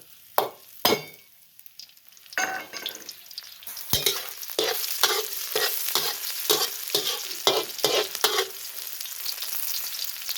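Garlic frying in hot oil for a Thai stir-fry of eggplant, minced pork and basil, a broadband sizzle with repeated sharp scrapes and clanks of stirring, close and steady, no voices.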